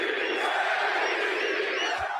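Basketball arena crowd roaring and cheering loudly and steadily throughout, a dense continuous wash of voices with one low thump near the end.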